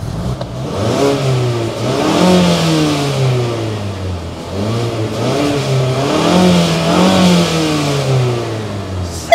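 A 2019 Mazda 3 G25 Astina hatchback engine heard close at the exhaust, revved repeatedly in strong rising and falling sweeps with a steady mid-pitched drone between them, loud and continuous with no talking.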